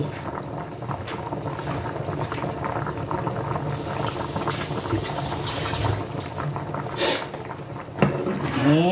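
Soup simmering in a pot, a continuous bubbling and gurgling liquid sound, close and steady, with a couple of brief louder splashes near the end.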